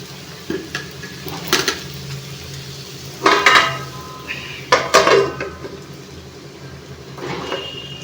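A lid goes onto a pan of ivy gourd fry coated in masala. Several sharp metallic clanks and clatters sound up close, spaced apart over a quiet kitchen background.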